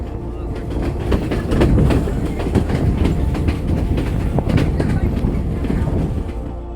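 A train rumbles along steadily over the Nine Arch Bridge in Sri Lanka with rhythmic clattering of wheels on track, loud and close, with faint voices mixed in beneath the rolling noise.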